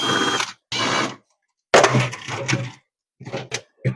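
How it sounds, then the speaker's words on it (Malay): Screws are driven out of the fan cover inside a refrigerator with a ratcheting tool, giving short bursts of loud clicking and grinding separated by pauses, all close up. "kita nak buka skru sini buka skru sini, kita nak buka cover ni"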